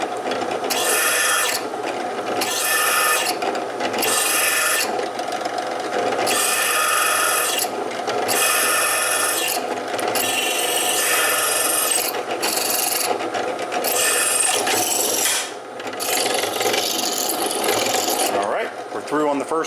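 A drill bit bores through a steel knife blade in a knifemaking workshop, giving loud harsh grinding bursts in repeated short pecks separated by brief pauses, steady and close throughout.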